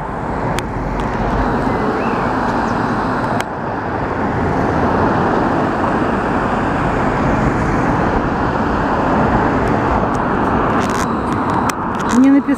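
Steady car traffic rushes along a nearby road in a continuous loud roar, with people talking over it and a faint bird song almost buried beneath.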